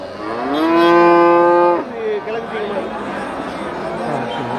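A race-trained bull gives one loud, drawn-out moo lasting nearly two seconds close by, followed by a murmur of people chatting nearby.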